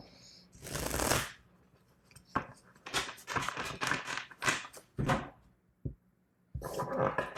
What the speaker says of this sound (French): on va rajouter des cartes histoire de voir si on a un petit peu plus d'informations